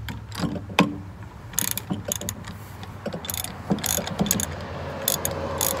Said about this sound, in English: We're going to work on these four set screws in the bottom with our quarter inch Allen wrench.